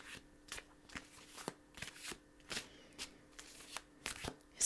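Tarot cards are shuffled by hand in a quiet room, a series of soft, crisp riffling bursts at irregular intervals, close and fairly faint, with no talking.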